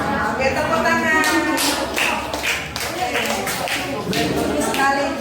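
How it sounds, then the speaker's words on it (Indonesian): Classroom applause, a group of students clapping hands together in a steady, dense patter lasting several seconds, close and fairly loud, with room reverberation and a bit of background murmur. "Oke, tepuk tangan."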